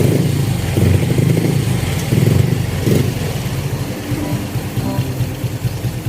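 Honda Wave 110i motorcycle engine running noisily after reassembly, a loud close clattering idle with brief blips of revving in the first few seconds before settling into a rough, steady chug.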